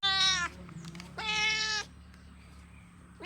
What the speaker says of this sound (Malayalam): അപ്പോൾ ഞാൻ എൻ്റെ പൂച്ചക്ക് മീൻ കൊടുക്കുകയാണ്.